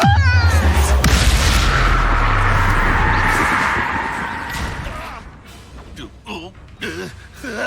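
In Hogwarts Legacy, the Descendo spell slams an enemy down with a heavy, loud boom and low rumble that fades over several seconds, followed by short grunting vocal sounds.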